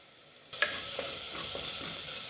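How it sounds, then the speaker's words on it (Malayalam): Ginger, garlic, crushed fennel and pepper hit a hot pan for a chicken curry, a sudden loud sizzle bursting out of near silence and holding steady, with a few soft stirring scrapes and no voices. "ഇനി ഇതൊന്ന് നന്നായിട്ട് വഴറ്റിയെടുക്കാം"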